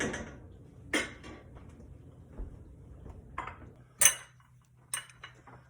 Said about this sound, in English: I'm gonna ladle on some sauce.